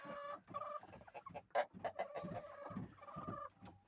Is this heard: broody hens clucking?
yes